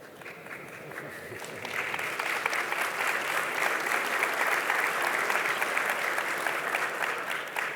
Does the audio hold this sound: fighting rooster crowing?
no